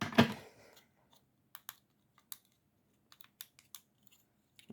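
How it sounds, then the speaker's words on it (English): Small plastic buttons on an assembled clock/FM radio soldering kit clicked one at a time, crisp and close, sparse irregular clicks separated by silence after an initial rustle. "All the buttons are nice and clicky."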